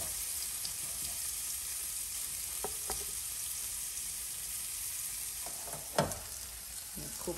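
Kale sizzles steadily in a pan during preparation of stuffed plantain wraps, a constant close frying hiss with a few light clinks and one sharper knock of a utensil near the end.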